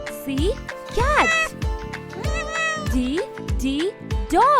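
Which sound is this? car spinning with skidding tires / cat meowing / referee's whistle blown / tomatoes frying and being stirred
cat meowing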